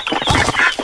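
Native chickens cluck loudly and close by on a small farm, a short burst of overlapping clucks with no talk.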